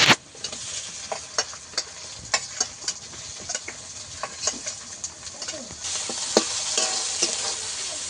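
Onions and turmeric-salted prawns fry together in a pan with a constant hiss of oil, broken by irregular clicks and scrapes of a utensil stirring. The sizzle swells louder near the end.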